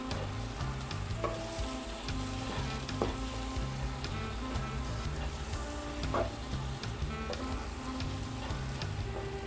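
Garam masala being stirred into a frying fenugreek-leaf and potato curry gives a steady close sizzle, with occasional spoon taps and scraping against the pan and no talking.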